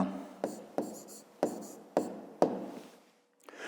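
A hand writes letters during a fifth-grade geometry exercise, about five sharp strokes tapping and scratching on paper in quick succession, close and fairly quiet, followed by a brief pause.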